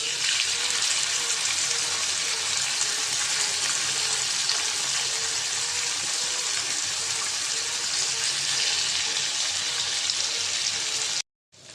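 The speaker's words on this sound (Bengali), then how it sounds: "তাওয়াটা গরম হয়ে গেছে আমি এখন মাছটা দিয়ে দিব" Small mixed fish frying in hot oil on a pan, giving a loud, steady sizzle that runs almost unbroken and ends abruptly in silence, with no talking.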